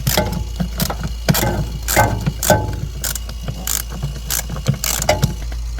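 A socket ratchet works bolts loose on a 1988-91 Ford Econoline E-150 during a heater core job, giving loud, close bursts of clicking ratchet strokes in an irregular rhythm with short pauses between them.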